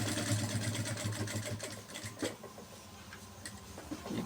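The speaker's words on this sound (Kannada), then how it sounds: "ನಾನು ಈಗ ಇಲ್ಲಿಂದ ಸ್ಟಿಚ್ ತೊಗೊತೀನಿ ನೋಡಿ" A sewing machine stitches a shirt collar neck band in one steady, continuous run with a fast, even whirring patter, close and loud.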